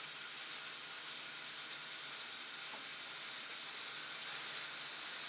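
Food sizzles in a pan while it is mixed around, giving a steady, even hiss with soft scraping beneath. The sound is fairly quiet and no one speaks.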